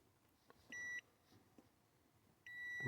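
Two short electronic beeps from a multimeter on continuity test, probing accelerator pedal position sensor wiring against the car battery negative. Each tone lasts under half a second with a pause between, clear and close over a quiet background.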